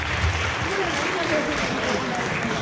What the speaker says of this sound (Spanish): Aplauso, gente. Cuando yo grito tiempo, ustedes aplauden.